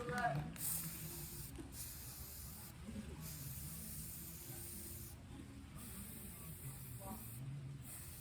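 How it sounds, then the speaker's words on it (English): A spray paint can hisses in several long bursts separated by brief pauses while painting a chair, a steady broadband spray sound close by, with low background noise underneath. "While you're spraying, you want to just try to get different angles."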